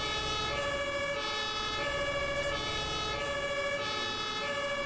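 A fire engine siren in the Landwirtschafts-Simulator 17 fire brigade mod wails in a steady repeating two-tone cycle, loud and close, over a continuous low vehicle engine rumble.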